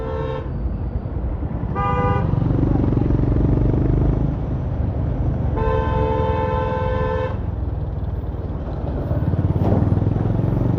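Morning city road traffic rumbles steadily around a Royal Enfield CB350RS motorcycle, with nearby vehicle horns tooting in a short blast and then a longer held honk over the engine noise.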